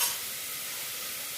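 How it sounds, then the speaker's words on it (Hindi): Spiced bottle gourd vegetable frying in a pressure cooker, a steady close hiss and sizzle that starts a little louder and then holds evenly, with no talking. "इसी सब्जी के साथ इसे भून लूँगी अच्छे से और जल्दी से पक जाएगा।"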